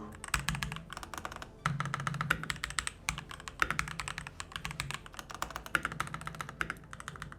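Lubed, non-clicky mechanical keyboard switches clack in quick, uneven bursts of typing, close and crisp, with brief pauses between runs.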